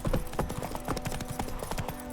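Roach, a horse in The Witcher 3, gallops with quick, evenly spaced hoofbeats, a close, steady clip-clop rhythm at moderate volume.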